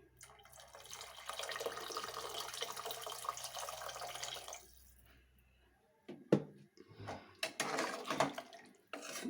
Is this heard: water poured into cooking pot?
yes